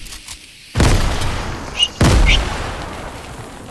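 Explosions in a first-person shooter: two loud, close blasts about a second apart, each with a sharp onset and rumbling tail, over faint background game noise.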